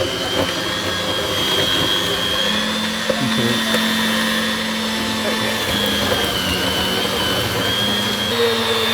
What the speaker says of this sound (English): The butter on high speed until smooth and creamy.